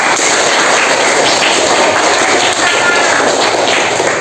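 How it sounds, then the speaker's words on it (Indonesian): A class of schoolchildren clapping hands together in an Indonesian classroom, a dense continuous patter of many small hands, loud and steady throughout. "tepuk tangan buat kita semuanya"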